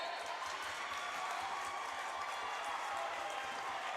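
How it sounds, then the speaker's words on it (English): Cheering from the Skyhawk cheerleaders and the crowd at a high school basketball game, a steady, fairly distant wash of claps and voices without a break. "Skyhawk cheerleaders cheering them on."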